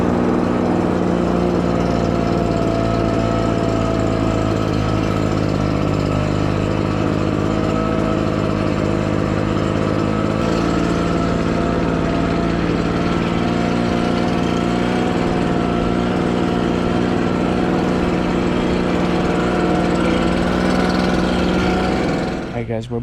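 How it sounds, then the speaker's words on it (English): Red Max gas leaf blower run at low throttle while blowing polymeric sand off a new paver walkway, a loud steady engine drone held close and unbroken for the whole stretch, cutting off at the end. "we're going to hit with the leaf blower"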